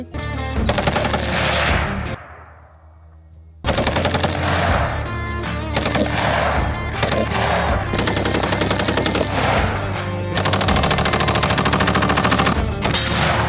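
Sustained automatic gunfire at a Texas outdoor shooting range, loud and close, in long rattling bursts with a brief pause of echoing decay before firing resumes and continues to the end.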